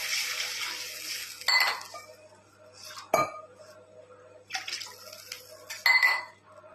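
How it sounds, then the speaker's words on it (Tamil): Water is poured into a kadai holding ghee to cook rava kesari, two glasses measured against one of semolina. Bursts of splashing come with sharp metallic clinks of vessels and utensils nearby, and there is no talk. "அதுக்கு 2 மடங்கு 2 கிளாஸ் வந்து தண்ணி ஊற்றிக்கிறோங்க"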